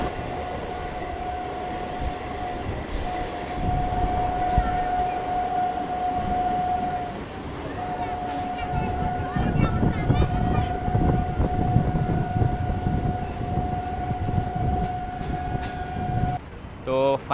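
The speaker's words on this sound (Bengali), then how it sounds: "ফাইনালি আমাদের ট্রেনটা কিন্তু এখন আমঘাটা স্টেশনে ঢুকছে" A passenger train pulls into Amghata station on the Krishnanagar line, with a sustained whining tone over rolling wheel rumble and clattering carriages, plus faint crowd noise and voices in the background.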